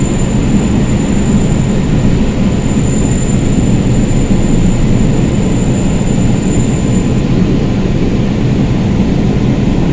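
Kolkata Orange Line metro train running on a rainy day, a loud, steady rumble and roar of the moving train that holds throughout with no voices over it.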